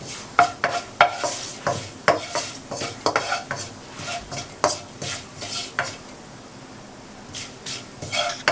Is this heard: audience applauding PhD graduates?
no